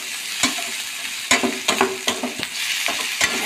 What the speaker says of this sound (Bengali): পুরো মশলাটা এখন লাল লালভাবে ভাজা ভাজা হোক